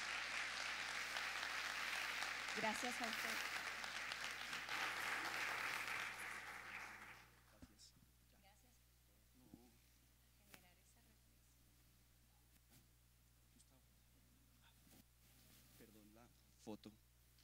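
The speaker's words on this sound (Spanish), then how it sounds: "Les pido por favor un aplauso a los colegas" Applause from a crowd fills the first several seconds, then stops abruptly, leaving a quiet room with a few brief spoken words.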